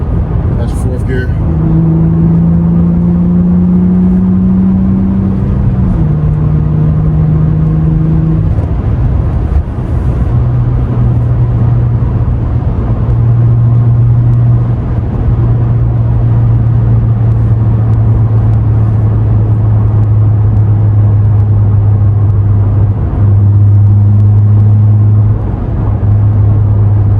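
Acura TL with a mid muffler delete and Vibrant resonators cruising on the highway, a low steady exhaust drone heard from inside the cabin that shifts pitch with gear changes, constant and fairly loud with road rumble beneath.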